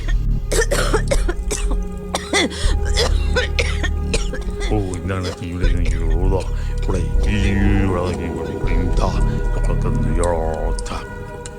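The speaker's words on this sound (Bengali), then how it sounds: "মাঝে মধ্যে হয় প্রচণ্ড কাশি" Harsh, repeated coughing fits and throat clearing come close up, mixed with strained vocal sounds over a busy, rumbling background.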